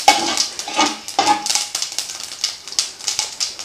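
Mustard seeds crackle and splutter in hot oil with a pinch of asafoetida while pirandai thuvaiyal is being made, a dense, rapid run of sharp close pops over a steady frying hiss.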